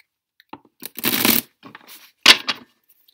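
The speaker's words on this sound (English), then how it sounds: "Another shuffle." Tarot cards being shuffled by hand, with a few short riffling and slapping bursts separated by brief pauses, close and fairly loud with no voice over them.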